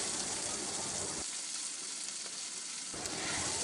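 Chicken chow mein noodles, coated in chili and tomato sauces, sizzle loudly in a hot pan as they are stirred with a spatula. A dense frying hiss briefly softens in the middle before surging back.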